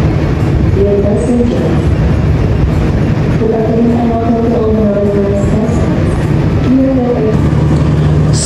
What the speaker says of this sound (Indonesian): Kereta api Menoreh sudah tiba di jalur 2 stasiun Cirebon Perujakan